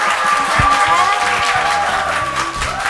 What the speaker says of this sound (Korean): 함께 해주신 홍신혜 선생님께 큰 박수 부탁드릴게요.